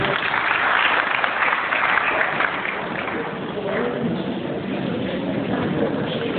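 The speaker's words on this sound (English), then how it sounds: "Please, a round of applause for them." Dense, continuous applause from an audience at an orientation program in Zamfara State, Nigeria, holding a steady, muffled roar for several seconds.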